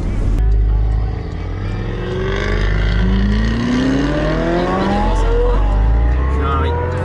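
A Ferrari engine drones loud and close while it drives, its pitch climbing and falling through the gears with a steady rumble underneath.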